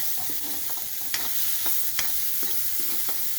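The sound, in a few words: chopped onion frying with curry leaves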